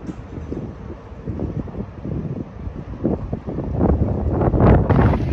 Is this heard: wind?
yes